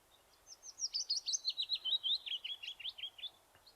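Willow warbler song in a suburban Monkstown setting: one clear, fairly close phrase of sweet descending notes that starts strong and tapers off toward the end, heard alone.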